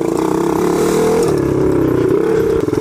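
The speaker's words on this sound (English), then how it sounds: "I love them because you can like do burnouts on my four-wheeler in them" A four-wheeler revs hard and steadily while doing a burnout in fallen leaves, its loud, close engine drone holding near-constant with rattling clatter, easing off briefly at the end.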